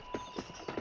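Horse hooves in the video game Red Dead Redemption 2, four soft clip-clop steps spaced at an uneven walking rhythm, fairly close, over a steady background hum with no talking.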